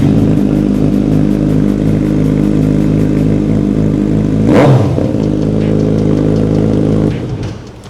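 Kawasaki motorcycle with a custom Austin Racing exhaust, a loud close burbling idle with one sharp throttle blip midway before settling and fading at the end.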